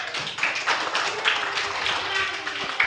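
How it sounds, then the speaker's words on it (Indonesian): Students in a classroom clap together briefly, a scattered patter of hand claps mixed with voices talking over it at close range. "Ayo, tepuk tangan dulu sama kita semua."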